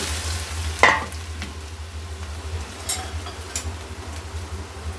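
Dudhi muthiya pieces stirred into a sizzling tempering of mustard seeds, sesame and curry leaves, a steady loud fry hiss with a spoon scrape and a few clinks against the pan.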